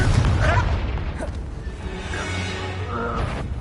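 Spell explosions from Bombarda and Confringo in the video game Hogwarts Legacy: a heavy, deep boom at the opening that settles into a rumbling tail. Faint voice fragments come and go over the continuous low roar.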